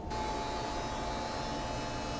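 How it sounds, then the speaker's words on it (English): Steady, loud mechanical drone with a constant hum and whine from the engine room machinery of an Aicon 66 yacht, unbroken throughout, with no voices. "it's actually a little loud in the engine room"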